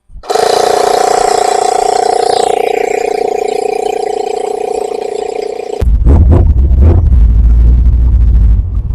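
An electric pump inflates a motorcycle's rear tyre, a loud steady motor whine that shifts in pitch, then gives way to a heavier low rumbling drone for the last few seconds.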